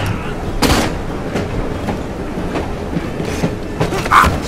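A train rumbles and rattles steadily in Assassin's Creed Syndicate, with sharp bangs like gunfire on top and speech mixed in.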